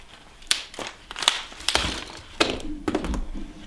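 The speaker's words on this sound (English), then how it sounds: "There's the screen, glass everywhere, and smash this stuff." An old phone is being smashed and its screen glass broken, heard as a string of sharp close cracks and thuds with crunchy, gritty debris in between.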